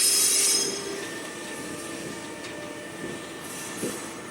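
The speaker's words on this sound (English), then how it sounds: "These wagons are being shunted," Freight wagons being shunted on a European railway give off thin, sustained wheel squeals over a low rolling rumble, with a louder burst at the start and occasional clanks, heard at moderate distance.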